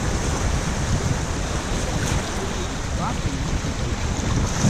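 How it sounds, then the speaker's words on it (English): Steady rushing river water and small waves slap around a stand-up paddleboard, with heavy wind buffeting the microphone and someone speaking briefly. "Definitely getting some waves here."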